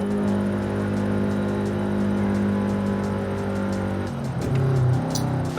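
A car engine in the Forza Horizon 5 racing game drones steadily with a rising, harmonic tone as it accelerates, shifting pitch near the end with a brief change in the engine note.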